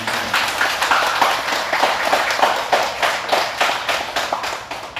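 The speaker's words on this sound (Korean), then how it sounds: "우리 합창단한테도 다시 한번 큰 박수 드립니다" Applause for a choir at a Buddhist Lotus Sutra lecture, a dense patter of many hands clapping steadily at moderate loudness throughout, with no talk over it.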